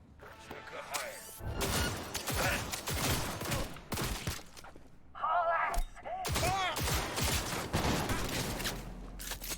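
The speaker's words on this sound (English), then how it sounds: "he was shooting the guy in the foreground while he threw a grenade in the background" Cyberpunk 2077 video game gunfire, dense broadband bursts and rapid volleys throughout, with a grenade-like blast mid-clip, mixed under ongoing game dialogue and chatter.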